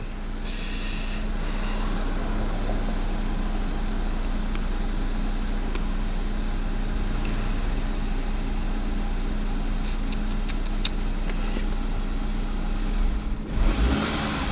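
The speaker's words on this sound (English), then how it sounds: "So I just gave it a little blip of throttle and it almost stalled out" A Chevy Equinox with a stall-under-load fault runs at a steady close-up drone, then a quick throttle blip near the end makes the engine lurch and sag as if about to stall.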